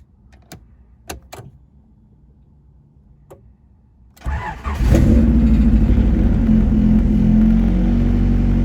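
A car, a project hatchback, cold-starts: a few faint clicks and ticks in quiet, then the starter catches and the engine bursts into a loud, steady rumbling idle close by.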